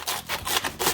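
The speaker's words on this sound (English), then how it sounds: "This is half of a cabbage. I'm just going to cut off" A knife cuts into half a cabbage, giving several crisp, crunchy rasping strokes in quick succession, close and clear, with no talk.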